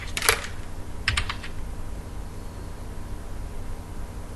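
Computer keyboard keys tapped while entering a search into a search bar, two short quick clusters of close, crisp clicks over a low steady hum, then only faint background noise.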